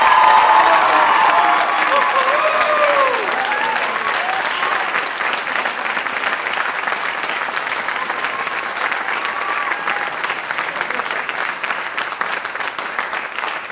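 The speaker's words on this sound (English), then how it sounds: "Give them a huge round of applause." A school concert band and orchestra audience applauds warmly, loud at first and gradually thinning into steady, slightly softer clapping from a large crowd in a hall.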